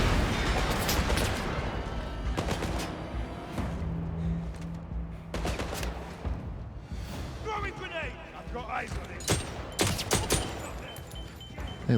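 Enemy gunfire in the shooter game 007 First Light comes in sharp bursts and single cracks, loud near the start and again toward the end, with a quieter, sparser middle stretch.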